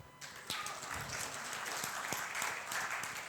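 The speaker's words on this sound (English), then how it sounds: "This deserves at least a clap." Audience members at a talk clap, a moderate burst of scattered hand claps that starts abruptly and continues unevenly for a few seconds, with a few sharper individual claps standing out.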